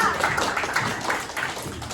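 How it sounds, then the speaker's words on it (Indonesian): Students in a sociology class applaud a classmate with a moderate, fairly quiet spatter of clapping hands that fills the room for a couple of seconds. "Tepuk tangan untuk Rania."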